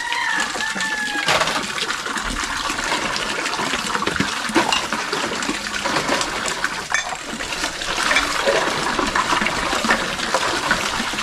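Water pours and splashes continuously while pots and woks are washed, with a rooster crowing now and then in the background.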